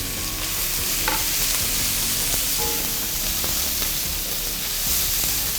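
Shrimp and bean sprouts stir-fried in a pan for a shrimp noodle dish, a loud, constant hiss of sizzling oil with faint clinks of a utensil, close and uninterrupted with no talking.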